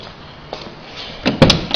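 A car door unlatches with a soft click and a couple of dull clunks, close by, beside a two-post car lift in an otherwise quiet room.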